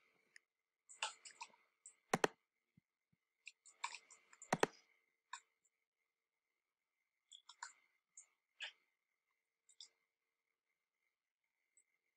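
Keyboard typing in quiet bursts, scattered crisp clicks and taps with short pauses between groups, close but faint against near silence.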